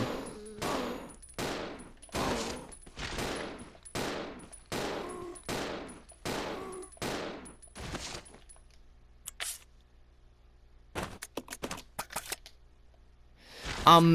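Shotgun blasts at zombies in Resident Evil Zero: about nine sharp, evenly spaced booms, each with a short decay, followed by quieter clicks and a brief burst of action near the end.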